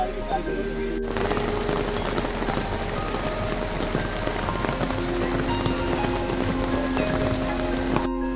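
Steady heavy rain falling during a boat ride on Nainital lake in the rainy season, a dense continuous hiss with no voices.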